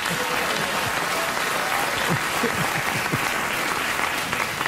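A studio audience applauds steadily and loudly throughout, a dense wash of clapping with faint voices mixed in beneath it.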